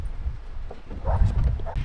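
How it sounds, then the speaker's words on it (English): A dog barks outdoors at a bird of prey perched in a distant tree, a few rough barks rising toward the end over low rumbling background noise and faint voices. "So Juniper's barking at the osprey that's right there, way off in the distance in a tree."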